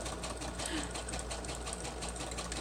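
A sewing machine stitching a paper wallet made from computer-printed paper, running as a steady continuous whir with rapid needle pulses throughout, fairly close and unbroken.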